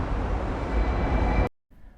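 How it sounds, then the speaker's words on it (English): Interior of a tram in Hong Kong heading to Central, a steady loud rumbling ride noise with a faint whine that cuts off abruptly near the end. "We took the tram to Central."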